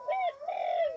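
Punai green pigeon cooing in Bali: two soft, mellow, hooting coos, the second longer and wavering, close and clear with no voices.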